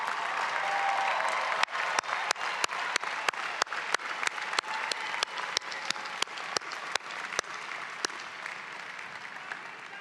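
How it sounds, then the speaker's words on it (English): Audience applause at a North Carolina State University spring commencement, a sustained wash of crowd clapping across a large hall with a few sharp, nearby individual claps standing out in an irregular series. "Give them a round of applause."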